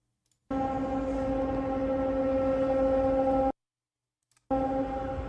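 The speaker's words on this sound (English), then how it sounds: "that's a tsunami siren" A tsunami warning siren sounds in a steady, tonal wail lasting about three seconds, falls silent for a second, then starts again, loud and alone.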